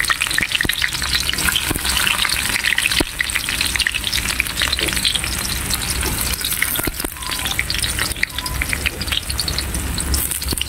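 Onion and garlic sautéing in a hot pan for pancit, a loud, dense, continuous sizzle with crackling pops and occasional stirring clicks throughout, no voices.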